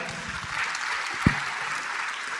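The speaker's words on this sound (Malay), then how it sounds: "Kita terus berikan tepukan gemuruh kepada pembentang sesi yang kedua" Audience applause at a government science and technology forum in Sabah, a steady dense patter of clapping with one sharper clap standing out, filling the whole stretch.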